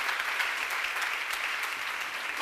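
A church congregation at a seminar claps together in a steady, dense wash of applause that fills the room and runs without talk before a voice cuts in at the very end.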